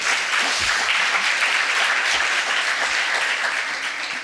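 A seated audience in the stands at a talk on feminism breaks into dense, sustained applause, a steady wash of many hands clapping at even loudness throughout, with no voices standing out.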